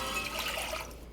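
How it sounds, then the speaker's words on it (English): Water and distilled white vinegar poured into a container for a quick pickled red onion brine, a brief, soft liquid rush heard alone. "For our pickling mixture, I'm going to mix in 1 cup of water, 1 cup of distilled white vinegar"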